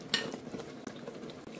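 Meatballs go into a pan of simmering sauce, giving a soft sizzle with light stirring and a few gentle clinks of utensil against the pan, close and quiet, with no talking.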